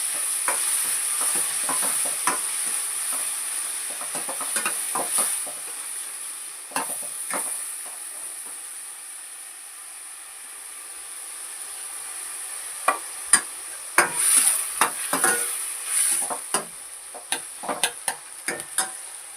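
Sprouted moth beans and spices hit hot oil in a tempering, giving a soft hiss with sharp crackles and spatters that swell toward the end, with occasional stirring.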